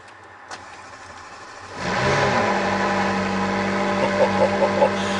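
McLaren 600LT sports car pulling away on a short drive, the engine firing up after a quiet cabin moment and settling into a loud, steady mid-pitched drone with a few light revs, heard from inside the car, no talking.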